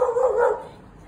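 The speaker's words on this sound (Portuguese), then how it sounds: "assustei com o cachorro latindo agora" A dog barks once nearby, a single loud, drawn-out bark that fades quickly into quiet.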